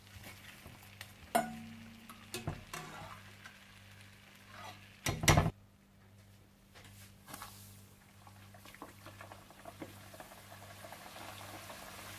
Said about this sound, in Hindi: आप इन्हें मीडियम आंच पर फ्राई कीजिएगा और ब्राउन करके निकाल लीजिएगा।